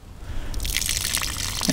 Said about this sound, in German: entferne das restliche Wasser